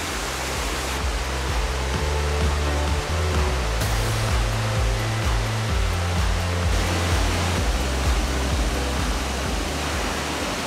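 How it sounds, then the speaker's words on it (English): Waterfalls at the top of Glen Nevis in Steall Gorge roar as a dense, unbroken rush of falling water, loud and close throughout with no voices. "That was the waterfalls at the top of Glen Nevis"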